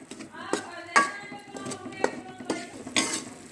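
Rice flour for pinni laddus is roasted and stirred in a pan, a spoon scraping and tapping against the metal in soft, irregular strokes at close range.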